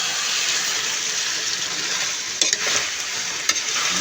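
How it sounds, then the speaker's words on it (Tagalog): Chicken frying in a pan for chicken curry while being mixed, a loud steady hiss of sizzling oil close by, with a couple of brief clanks from the spatula and no talk. "Lagay na rin po natin yung chicken para kasama na po silang mix."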